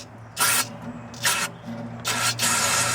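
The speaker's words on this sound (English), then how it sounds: "This is the return line, and we're going to squirt some brake cleaner in there." Brake cleaner is sprayed into a fuel return line in three short hissing bursts, the last one longer, each a close, sharp aerosol spray over a low background hum.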